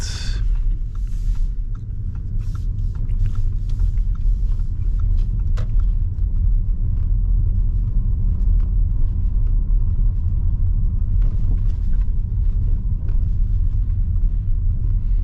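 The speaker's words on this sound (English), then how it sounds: "Twin turbo V8, 560 horsepower, stock." A stock 560-horsepower twin-turbo V8 Audi RS7 cruises on a night drive, with a steady deep low rumble and road noise filling the cabin, plus occasional light clicks and knocks.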